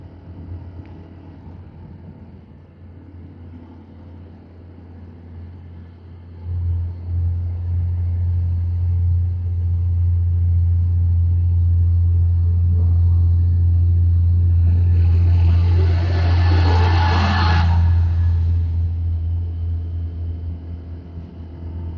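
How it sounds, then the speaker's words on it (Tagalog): A truck passes on a road at night, heard as a low engine rumble that swells over several seconds to a loud close peak, with a brief hiss of tires, then fades slowly. "Uy, ito na naman truck."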